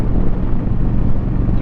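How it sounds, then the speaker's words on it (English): Strong wind on the Nova Scotia coast buffets the microphone in a continuous low rumbling roar, with no other sounds. "obviously it's very, very windy"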